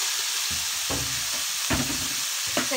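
Broccoli stir-fried in a hot pan gives a steady close sizzle, broken by several rhythmic scraping and clattering stirs of the utensil against the pan.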